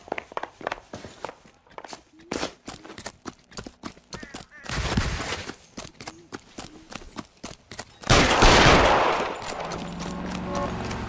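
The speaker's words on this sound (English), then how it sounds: "Shoot him, for God's sake!" Gunfire in the video game L.A. Noire: sharp shots and short bursts crack among footsteps and game sounds, followed by a loud, sustained rush of noise near the end, with voices speaking in places.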